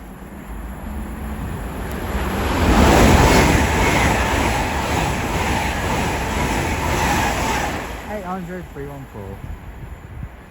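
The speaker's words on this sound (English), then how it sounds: "Soon to pass through now will be a Great Western Railway service going from London Paddington to Penzance." A Great Western Railway passenger train running from London Paddington to Penzance passes through West Ealing on the Great Western Main Line, with a loud, sustained broadband rush of wheels and traction that swells and then fades. A voice speaks briefly near the end.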